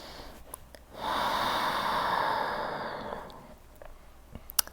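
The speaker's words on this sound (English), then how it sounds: "And we'll take one more big breath in." A slow, deep inhaled breath during a restorative yoga session, soft and airy, rising after a quiet pause and easing off over about two seconds.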